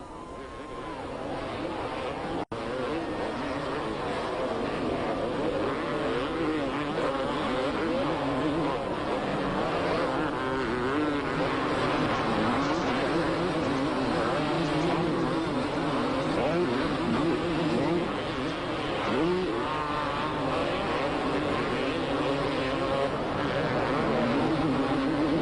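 250cc motocross bikes race at Mount Morris in the 1991 US championship, their engines a continuous droning roar mixed with crowd and wind, under steady commentary in French.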